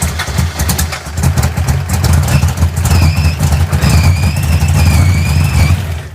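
Hemi V8 in a drag-style gasser, idling fast with a steady, loud, close rumble and a thin whining squeal rising briefly near the end.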